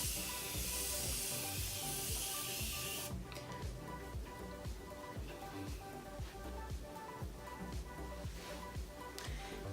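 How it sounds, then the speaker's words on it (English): A steady hissing makeup setting spray mist sprayed onto a face for about three seconds, followed by quiet background hum and faint ticking. "So I will take that and just spray it on"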